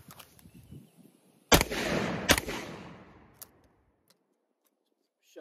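Two sharp, loud shotgun blasts in quick succession from a Stoeger double-barrel coach gun, each followed by a rolling outdoor echo that fades over a few seconds, with faint clicks and handling noise afterward.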